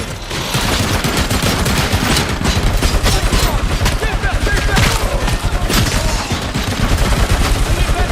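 Rapid suppressive gunfire, dense overlapping bursts of shots crackling loudly and continuously for several seconds with no pauses.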